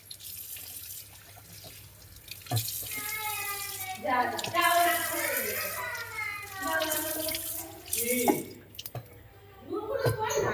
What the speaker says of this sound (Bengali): আমার মেয়ে মুখ ধুয়ে চলে যাচ্ছে, দেখো।